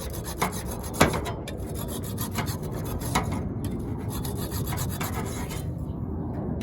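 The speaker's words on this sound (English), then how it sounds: "So I'm just going to use the saw real quick and just kind of flatten it out a bit." A hand saw rasps back and forth across an aerated concrete block as it is flattened for an ant nest. The gritty strokes are steady and close and keep going without a break, with one sharper scrape near the start.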